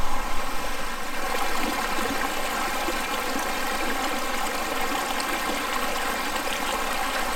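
Water passing through a LifeStraw filter on a scout hiking trip, a steady close trickle and stream of flowing water that runs evenly throughout, with no talking.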